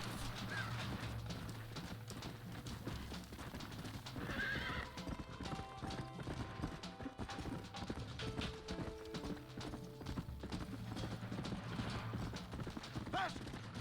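Horses gallop with steady clip-clop hooves and occasional neighs in the Red Dead Redemption 2 video game, loud and continuous over game music, with voices calling out now and then.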